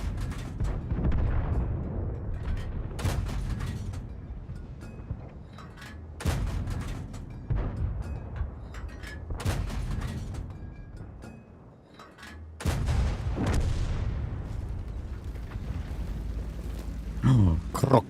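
A tank's big derp gun firing in World of Tanks: several heavy booming shots spaced through the stretch, each a loud sudden blast with a rumbling decay, mixed with game noise and some talk.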